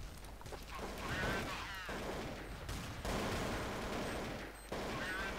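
Gunfire in a Counter-Strike match, Desert Eagle shots among rapid volleys crackling steadily across the stretch at moderate level, with a commentator talking over the action.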